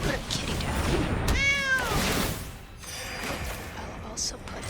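A cartoonish cat meows once, bright and clear, in a Magic: The Gathering digital card game, set against a steady bed of game music.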